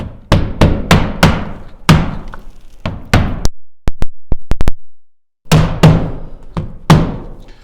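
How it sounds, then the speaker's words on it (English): A rubber mallet taps repeatedly on the stops of a PVC window with dull, close thuds: irregular clusters of blows, a few lighter taps, then a short pause and more strikes. "Once they are in, use a rubber mallet."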